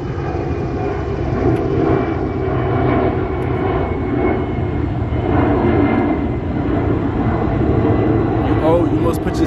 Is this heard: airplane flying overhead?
yes